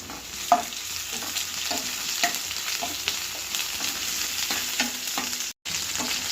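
Ginger paste fries in oil, producing a moderate, even sizzle with regular spoon-stirring scrapes and a short silent gap near the end.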